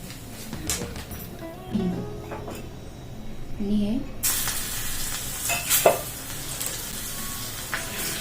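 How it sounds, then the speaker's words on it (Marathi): Spices, including cumin powder and garam masala, sizzle in hot ghee for a tempering, the hiss swelling halfway through, with a voice talking and some clinks of a pan or utensil. "मस्त तुपाची फोडणी केली आहे"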